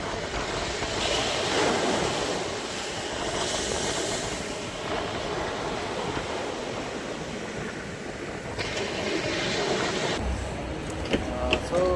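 Sea waves break on the shore in a continuous loud roar with surges and swells throughout, buffeted by wind noise on the microphone and no talking.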